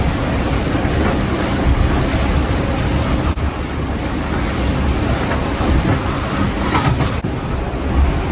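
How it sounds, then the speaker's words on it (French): A steady, loud roar of thunderstorm at sea, with wind and rain over heavy ocean surf, holding a dense and even wash of noise throughout, broken by a few brief dips and faint rumbles. "Bel orage encore une fois."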